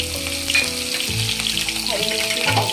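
Green chillies and cumin frying in hot oil, a loud, close, continuous sizzle and crackle with a few short hums of background noise, no speech over it.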